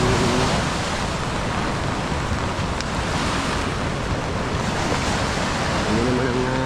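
Rushing river water with boats nearby in the Philippines, a dense, steady wash of flowing water heard up close, with a short low hum at the start and end.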